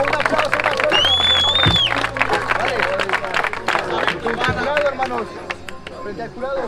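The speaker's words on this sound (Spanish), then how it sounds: "un aplauso" A live crowd at a freestyle rap battle claps, cheers and whistles over a running beat, loud and dense, with voices shouting through the noise.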